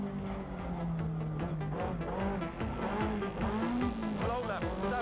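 A new BMW M3 rally car is heard from inside the cockpit on the Circuit of Ireland, the engine revving up and down through gear changes while a voice speaks over it.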